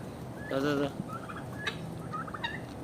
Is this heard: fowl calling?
yes